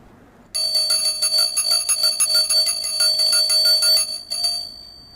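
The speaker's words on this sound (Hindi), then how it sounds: "जब आप घंटी बजाते हैं" A bright bell rings rapidly and continuously for about four seconds, a metallic trilling ring that stops abruptly, with a short faint echo afterward.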